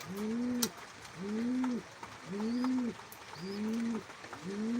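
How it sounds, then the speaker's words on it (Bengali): Pigeons cooing in repeated rolling calls, five evenly spaced coos close by, with a few faint chirps in the background and no talking. "কবুতরটা সবার আগে আসছে তেরো পিস কবুতর ছাড়ছি"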